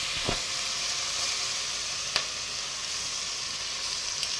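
Toor dal dropped into a hot pan with garlic and frying for khichdi, a steady close sizzle with a few sharp crackles and pops throughout.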